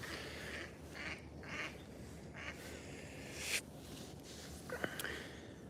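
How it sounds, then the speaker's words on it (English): Ducks quacking at a city pond, several short quacks and honks coming from a middle distance over faint outdoor background noise. "There's plenty of ducks around here."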